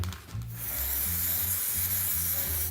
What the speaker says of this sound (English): try it out on a piece of cardboard to get a feel for the spray jet